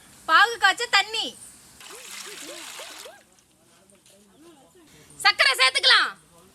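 Water for sugar syrup is poured into a pan for jigarthanda, a steady splashing trickle of about a second and a half set between spoken phrases.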